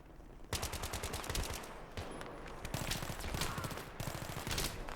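SCAR-L rifle in Battlefield 3 firing in rapid sustained bursts, loud and close, with short pauses between volleys and heavy reverberant battle noise throughout.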